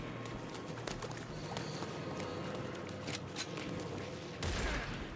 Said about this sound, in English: I do be getting shot